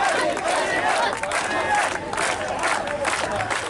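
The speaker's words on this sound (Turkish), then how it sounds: "Alkış ve tezahüratlar hiç susmadı." A village crowd in Afrin cheers and applauds soldiers of the Free Syrian Army. The roar of voices and clapping runs dense and steady from start to finish, with no break.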